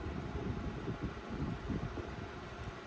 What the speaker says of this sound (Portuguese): tá cedinho e o ventilador já tá tendo que ficar ligado